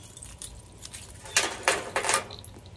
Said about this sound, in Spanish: Mi llavero, que es muy pocas llaves